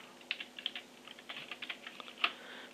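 Quick, light keystrokes on a computer keyboard while working in Photoshop, a close but quiet run of irregular clicks with a sharper tap near the end.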